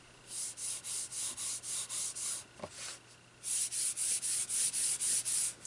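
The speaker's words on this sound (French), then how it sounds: "Celui-là va faire beaucoup plus de bruit parce que quand je le touche, il n'est plus du tout lisse comme celui-là." Fingertips rub back and forth over rough, textured paper in a steady rhythm of close, scratchy strokes, pausing briefly midway before resuming slightly louder, with no one talking.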